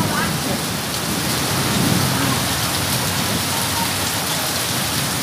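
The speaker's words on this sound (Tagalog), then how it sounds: "Lakas ng ulan." Heavy rain hisses steadily and evenly, a dense continuous downpour with no pauses.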